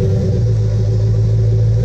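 A 2006 Dodge Ram 1500 pickup with a 5.7 Hemi engine and 169,000 miles rumbles steadily up close, a loud, constant low drone without changes in pitch.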